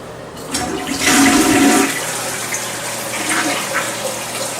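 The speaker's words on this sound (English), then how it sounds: "This is an old school high flush toilet. And you can probably hear it filling back up." An old-fashioned high-tank toilet in a resort hotel room flushes with a loud rushing gush, then settles into a steady hiss of water as the tank refills; heard close up with no talk.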